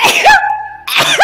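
Two sharp human sneezes in quick succession, each a loud close burst with a rising voiced onset, separated by a short pause.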